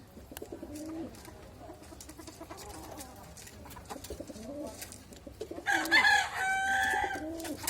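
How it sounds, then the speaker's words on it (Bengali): Racing pigeons in a loft, imported originals kept for sale, give soft cooing and fluttering calls, with a louder burst of bird calls near the end; no talk. "এই যে কবুতর আছে"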